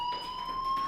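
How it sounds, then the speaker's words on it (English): A school fire alarm in the game Life is Strange rings as a steady, piercing electronic tone, continuous and moderately loud over a brief moment with no speech. "do you hear that fire alarm?"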